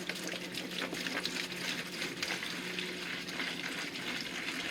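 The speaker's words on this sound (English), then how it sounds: "So we're going to pour our first gallon in." Steady, continuous rush of a gallon of liquid pouring into a container while flushing a Navien tankless water heater, a broad splashing hiss that holds evenly throughout with no talking.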